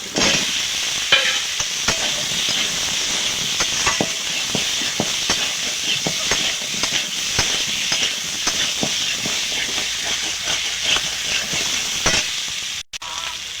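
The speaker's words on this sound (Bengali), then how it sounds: "একটু পেঁয়াজ রসুন আদা টমেটো ভেজে নিয়েছি। এবার দিয়ে দেবো আলু।" Potato pieces go into a pan of frying onion, garlic, ginger and tomato for an egg curry, giving a steady loud sizzle with frequent scraping stir clicks throughout, a brief dip near the end.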